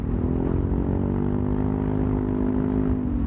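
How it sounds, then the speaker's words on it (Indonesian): Yamaha Aerox scooter fitted with a BEST3 racing exhaust, its engine holding a loud, steady, throaty drone close to the microphone for the whole stretch, with no break in the sound. "Ini pertama kali saya pakai knalpot racing buat di Matic ya"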